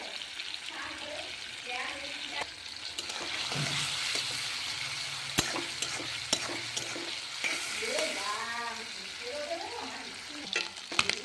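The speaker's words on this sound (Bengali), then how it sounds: "দেখো আমার চিংড়ি মাছ ভাজা হয়ে গেছে, এবার তুলে নেব।" Shrimp seasoned with turmeric and salt fry in oil with a steady sizzle and frequent stirring scrapes, while intermittent voices talk quietly over the cooking.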